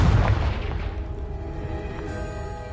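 A blasting spell detonates in a video game, a heavy low boom at the start that rolls into a long, fading rumble with scattered debris crackle and no voices.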